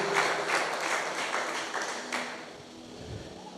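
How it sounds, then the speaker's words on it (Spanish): Applause from an audience at a Sunday church service, a dense mix of hand claps that starts full and gradually thins and fades toward the end. "para quien pido un aplauso, por favor"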